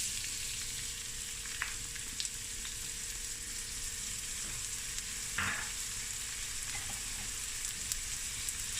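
Finely chopped onion fries in a little oil in a saucepan, a continuous soft sizzle with a low steady hum and a few brief spoon scrapes, close and fairly quiet with no talking.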